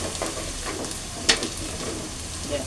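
Spices with turmeric and chili powder frying in oil in a pan for chicken khichuri, a close, steady sizzle broken by a few stirring scrapes and one sharp clack of a utensil midway, with no talk.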